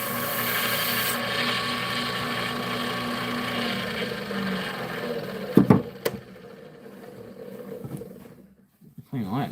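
A Sorby Spiraler texturing tool rasps against the edge of a wooden piece spinning on a lathe, giving a steady grinding hum with sharp knocks near the end, while someone talks over it.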